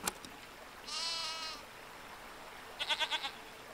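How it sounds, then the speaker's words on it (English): A goat in the video game Season: A Letter to the Future bleats twice: first a smooth, drawn-out cry, then a shorter, wavering, stuttered bleat. Both are clear and close over a quiet background with no talking. "Who would have thought that a game could give me such joy out of recording goat sound?"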